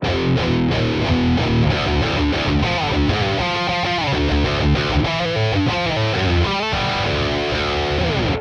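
A high-gain electric guitar plays through the Amped Roots amp with its low knob adjusted, giving a massive distorted metal tone of continuous loud chugging riffs and chords, sustained throughout with no talking.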